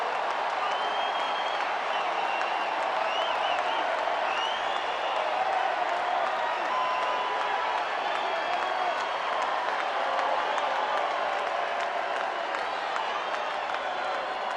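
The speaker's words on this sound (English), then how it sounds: "I can't tell who's doing all the cheering here." A packed Coors Field crowd cheers and applauds steadily after Nolan Arenado's home run in a Cardinals vs. Rockies game, a sustained wash of loud cheering with no break.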